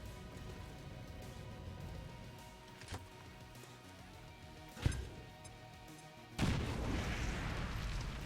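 A frag grenade in XCOM 2 Long War lands with a faint thump, then a sharp blast, followed by a sustained noisy rumble after a louder burst; all quiet and distant-sounding over a low ambient bed.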